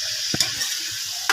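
Sautéed chayote and sliced pork belly sizzle steadily in a pan while a utensil stirs and scrapes through it, producing a couple of sharp clacks over the continuous hiss, close up and without talk.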